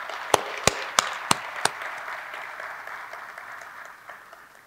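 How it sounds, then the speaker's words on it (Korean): Applause for Korea University periodontology students at a university New Year opening ceremony: a few sharp, distinct claps at the start, then a steady wash of clapping that slowly fades. "고려대학교 치주학부 학생들에게 큰 박수"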